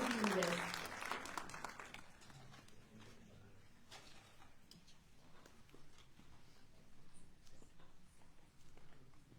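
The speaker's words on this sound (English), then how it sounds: "let's give them a huge round of applause to all our respected dignitaries" Audience applause for dignitaries at an Indian cultural festival at the Australian Federal Parliament in Canberra, a burst of clapping that quickly thins to scattered claps amid crowd murmur and indoor room noise.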